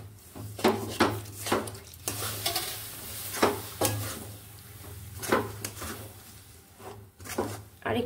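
Milk being stirred little by little into semolina in a pan for a sweet, with repeated scraping stir strokes in a steady rhythm, close and moderately loud, alongside a faint sizzle and a low steady hum.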